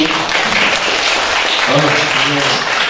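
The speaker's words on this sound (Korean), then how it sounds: "박수" Audience applause fills a talk concert hall, a dense, steady wash of clapping held at an even level for the whole stretch, with voices mixed in underneath.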